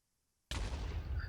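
A wither spawning explosion in Minecraft Java Edition at a spawner-based wither rose farm: after half a second of near silence, a sudden loud boom hits and rolls on as a dense, sustained rumble.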